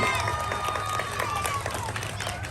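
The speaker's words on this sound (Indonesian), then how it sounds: "beri tepuk tangan." A crowd at a school wayang kulit shadow-puppet performance claps and cheers together in a dense, lively wash, with voices mixed in among the steady applause.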